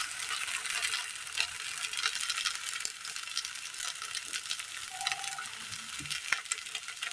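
Kerala kattipathiri, a coconut-rich flatbread, cooks on a hot pan with a soft, continuous sizzle and faint crackling and occasional light scraping, all fairly quiet.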